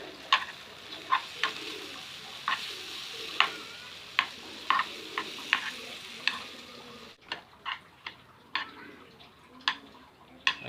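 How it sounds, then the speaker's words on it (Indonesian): Noodles being stirred in a pan with Lemonilo noodle seasoning and soy sauce, giving a steady run of sharp clinks and scrapes at a regular rhythm, up close, over a faint sizzle, with no talking. "masukkan kecap mie limonilo, kemudian kita aduk"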